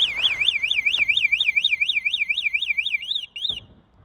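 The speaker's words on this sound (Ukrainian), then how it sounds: "Також встановили сигналізацію" A shrill electronic alarm on a 26-inch Cubic-bike Sonata 1000W electric bicycle warbles rapidly up and down in a steady repeating pattern, loud and close, then cuts out near the end.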